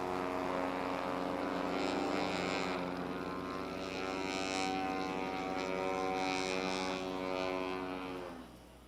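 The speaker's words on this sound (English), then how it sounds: "You can hear that big seaplane prop on the 175 just brapping away." A Cessna 175 seaplane's propeller engine races at the Reno air races, a sustained buzzing harmonic drone that swells and fades slightly as it passes before dropping off at the end.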